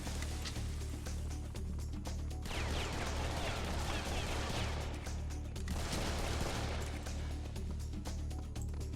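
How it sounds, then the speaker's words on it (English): Bursts of video game gunfire crackle in two rough waves, with sharp pops and rumbling booms over a low steady drone. "listening for the sound of gunshots is one way to find the other person"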